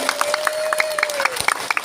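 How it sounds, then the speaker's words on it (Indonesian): Women's religious study gathering at a mosque giving a short round of applause, with scattered, uneven claps and crowd murmur, fairly close and brief, with a faint steady tone running underneath. "Tepuk tangan dulu buat muslimat Langansari."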